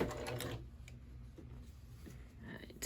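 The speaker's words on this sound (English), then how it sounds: "lift my presser foot, and just start sewing down this side" A sewing machine stitches down quilt binding on a small mug rug, a quiet continuous mechanical whir with faint rapid ticking, heard close and alone.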